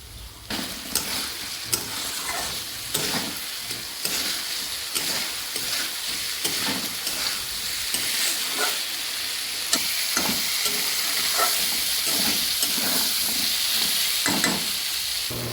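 Spices with turmeric and salt fry alongside potatoes in a pan for pabda fish curry, giving a continuous loud sizzle and hiss broken by repeated stirring scrapes.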